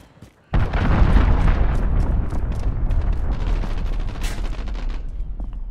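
An allied cruise missile strike in Call of Duty: Modern Warfare hits with a sudden loud boom, then a sustained, roaring rumble of explosions and debris lasting several seconds.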